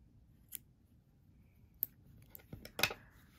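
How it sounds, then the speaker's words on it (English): Small scissors snip off a crochet yarn tail on a tiny Santa hat, a few faint, brief close clicks and a final cut in an otherwise quiet room. "I'm just gonna cut off the tail."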